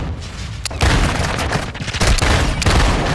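Gunfire in a video game: rapid bursts and sharp cracks rattle loud and close, with a few heavier booms among them.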